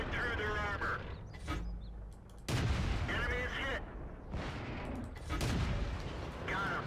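Tank cannon fire in a World of Tanks battle comes as repeated sharp booming shots at a quick rate of fire, with someone talking over the gunfire.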